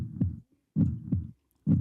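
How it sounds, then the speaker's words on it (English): A heartbeat sound effect used in a song, three deep, close lub-dub thumps in a slow, steady rhythm separated by silence, with no voices. "It does have the heartbeat."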